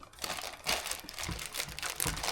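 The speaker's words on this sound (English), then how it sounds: "Let me unwrap it." Plastic packaging around a motorcycle shifter crinkling and rustling continuously as it is unwrapped, close and fairly loud, with no talking.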